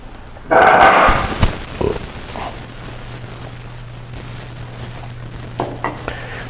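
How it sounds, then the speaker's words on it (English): A chisel chops out half-blind dovetails in wood, with a loud burst of noise followed by several sharp, scattered knocks and taps at close range, spread irregularly across a few seconds. "I just chopped out the half-blind dovetails here"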